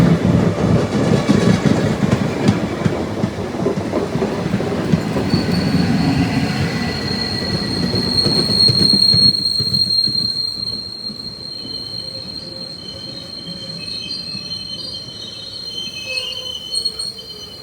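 A train leaves Chelam railway station near the Nallamala forest with loud rumbling and clatter, then a long high, sustained wheel squeal rings on the rails as the rumble fades, heard from on board.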